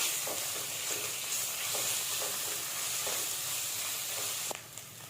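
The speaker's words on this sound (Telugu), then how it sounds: "పసుపు తగినంత పచ్చి వసన పోయేదాకా ఫ్రై చేస్తాను" Turmeric fries in hot oil in a pan for a ridge gourd and moong dal curry, a close, steady sizzle and hiss with light stirring taps throughout, easing slightly at the very end.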